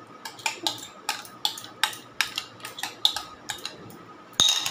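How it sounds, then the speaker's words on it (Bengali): A spoon stirring mango into cooled, thickened milk for mango curd (aam doi) makes a steady run of about a dozen light clinking taps against the bowl, then a heavier clunk at the end, with no talking. "এবার এর মধ্যে আমটাকে আমি মিশিয়ে দিচ্ছি"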